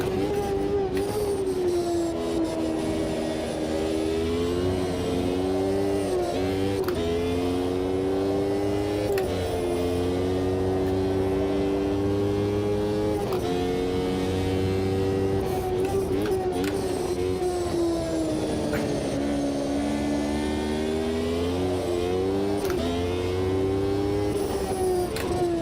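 A 1990s Formula 1 race car engine in the Automobilista 2 sim at Catalunya drones steadily, its pitch rising and falling in repeated waves through upshifts and downshifts, continuous and fairly quiet without talk.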